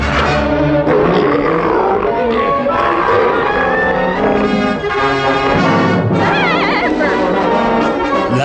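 A loud, sustained animal roar growls and rises with a rough, rumbling texture, filling the moment with intense, close vocal power.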